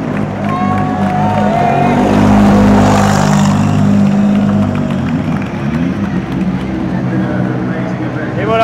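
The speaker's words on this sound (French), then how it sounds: "On vient de voir passer la voiture des vainqueurs" The winners' race car at the 2023 24 Hours of Le Mans passes by with a rising, then fading engine roar, while a crowd murmurs and cheers in the background.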